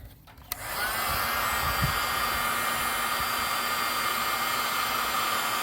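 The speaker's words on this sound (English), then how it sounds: "I'm gonna need the heat gun." A heat gun switches on with a click and blows hot air in a steady, close whoosh, used while installing a Flatline Van Co roof rack on a 2026 Ford Transit van.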